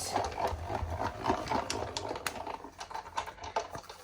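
A Stampin' Up die-cutting machine cranks a cherry cobbler buffalo check paper piece through, giving a steady close mechanical whir with faint rhythmic clicks throughout.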